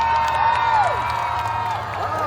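Crowd at a monster truck show in Dinwiddie, Virginia, cheering for the truck Toxic, a loud mass of shouts and whoops with a rising and falling whistle over it, close and continuous.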